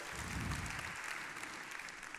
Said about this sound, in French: je pense qu'on peut faire un tonnerre d'applaudissements à Jean-Christophe Tortora, Azilis et toutes les équipes